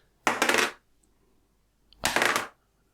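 Dice rolled onto a table during a tabletop role-playing game session: two separate bursts of rattling and clattering, each lasting about half a second, with quiet between them and no talk over them.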